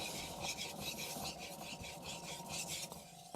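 A knife drawn over an Altstone Rin Splash N Go 3000 grit whetstone gives steady, close, repeated rasping strokes in an even back-and-forth rhythm, with no talking.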